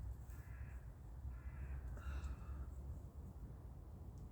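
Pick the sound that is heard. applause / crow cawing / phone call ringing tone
crow cawing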